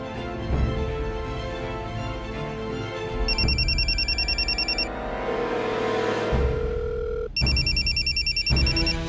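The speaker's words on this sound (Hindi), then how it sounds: "फोन क्यों नहीं उठा रहा है?" A telephone rings in repeated electronic trills, loud and close, with pauses between bursts over a background of music.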